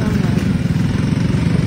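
A motorcycle engine hauls a large cabinet uphill, giving off a loud, steady low drone with a rough, pulsing throb and no break.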